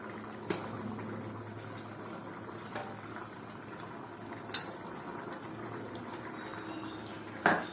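A vegetarian ghugni pea curry simmers in a pot, giving a soft, steady bubbling close by, with a few sharp clinks of a utensil against the pot.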